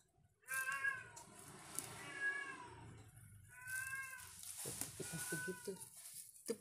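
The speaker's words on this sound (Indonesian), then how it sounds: "Kalau dia lapar gitu meong meong. Meong meong meong." A hungry cat meows repeatedly in a home kitchen while vegetables are being cooked. Two close, loud bursts of drawn-out, wavering meows are separated by a short pause, and there is no speech.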